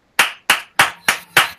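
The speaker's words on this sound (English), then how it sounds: "Round of applause." Five sharp, evenly spaced claps, loud and close, like one person slowly clapping.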